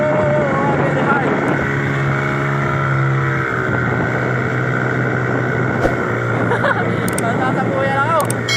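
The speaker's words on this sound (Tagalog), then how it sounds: "Nagdadrive ng speedboat mga kapatid." A speedboat engine drones steadily while driving across choppy ocean water, with wind buffeting the microphone and a person talking over the motor.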